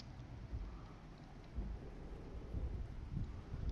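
Steady rain and low rumbling thunder wash over a truck in Euro Truck Simulator, a continuous dense roar with deeper swells, heard alone.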